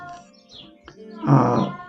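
A cat meows indoors, one drawn-out call near the end rising over quieter room sounds and faint earlier vocal noises.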